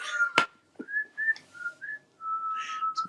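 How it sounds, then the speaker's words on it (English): A woman whistles a short melodic tune in clear sustained notes, alone and close, after a sharp knock or click at the start. "that's my favorite part when she whistles"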